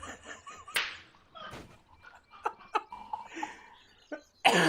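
A handful of sharp, separate coughs come close to the mic during a casual golf outing among friends, with quiet gaps, faint laughter and light background noise between them.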